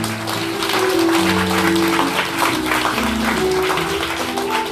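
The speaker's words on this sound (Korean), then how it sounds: "그럼 먼저 신랑 어머님께서 점화해 주셨습니다. 박수 부탁드리겠습니다." Guests at a Korean wedding applaud as the groom's mother lights the ceremonial candle, a dense, continuous wash of clapping blended with sustained background music throughout.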